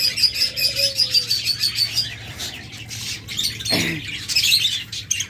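Doves, ghughu birds, call alongside chirping cage birds such as cockatiels and budgerigars: constant high twittering and tweets close by, with a brief low cooing call and a rustle of wings, no talking.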